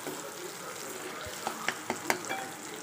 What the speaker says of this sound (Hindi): इसे चलाते हुए पकाना है टमाटरों को।